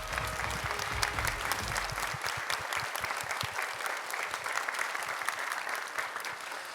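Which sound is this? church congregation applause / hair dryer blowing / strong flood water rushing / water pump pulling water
church congregation applause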